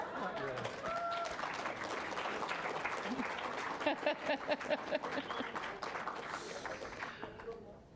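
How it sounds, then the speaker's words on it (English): An audience at a university Three Minute Thesis championship gives another round of applause, sustained clapping with some voices and crowd chatter before it fades near the end. "another round of applause?"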